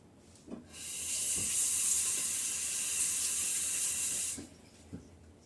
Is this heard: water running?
yes